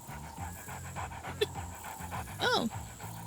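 A dog pants rhythmically in quick, soft bursts at close range in the Land of Screens game, backed by a low repeating musical pattern, with a brief whimper-like rise near the end.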